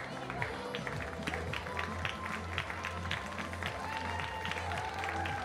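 Applause from a youth football tournament crowd, steady scattered clapping mixed with crowd noise and a commentator's voice over the top, fairly close and continuous.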